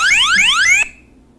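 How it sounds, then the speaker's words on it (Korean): A dementia elderly location tracker sounds a loud electronic emergency alarm of rapid rising sweeping tones that repeats for under a second, then cuts off abruptly into quiet. "비상 버튼을 누르시게 되면 자동으로 비상경보음과 함께"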